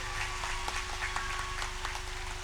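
A crowd applauds at a BJP political rally in Sonapur, Dispur constituency, Assam: faint, distant, scattered clapping over a steady electrical hum.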